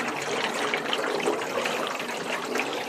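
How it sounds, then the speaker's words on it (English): Steady, dense rush of water splashing and trickling inside an airlift water tower as it oxygenates the water in Elgin, Texas; continuous and fairly loud, with no voices. "You hear that? That is called oxygenating the water."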